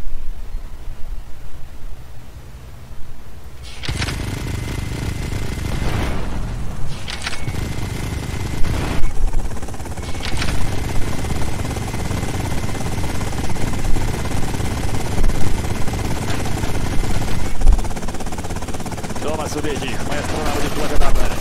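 Gunfire aimed at a ship in GTA Vice City, with bursts of sharp shots and rapid automatic fire over a constant engine-like rumble, loud and sustained, with a few louder cracks standing out.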